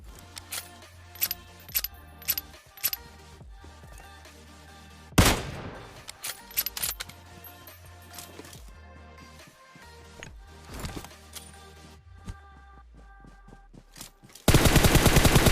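Gunfire and a grenade blast in the battle game PUBG Mobile Lite: scattered sharp shots and short bursts, a loud explosion about five seconds in, more shots, then a dense, loud burst of rapid fire to close.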